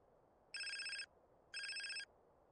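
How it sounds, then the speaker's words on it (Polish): A phone rings in the video game GTA San Andreas Definitive Edition: two bright, buzzing electronic ring bursts, each about half a second, with a pause between, alone and clear. "Jeszcze odbiorę, tak, odbiorę ten telefon spokojnie."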